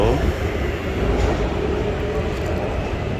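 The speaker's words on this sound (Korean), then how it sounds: "지금 태국 지하철" A Bangkok subway train rolls along underground, a steady loud rumble and rattle of the carriage filling the ride, with a few people talking faintly under the noise.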